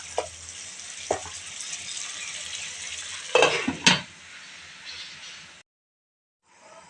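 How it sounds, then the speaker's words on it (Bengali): Beef with spices fries in a pot while being stirred, a soft sizzle broken by a few sharp metal spoon clanks against the pot, then falling silent briefly near the end. "মশলার সঙ্গে মাংসগুলোকে আমি খুব ভালোভাবে নেড়েচেড়ে মিশিয়ে নেব এবং ভালোভাবে কষিয়ে নেব"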